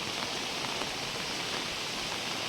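Heavy rain pours down outdoors in an unseasonal winter downpour, a dense, even, broadband hiss with no breaks, steady and moderately loud, with no voices.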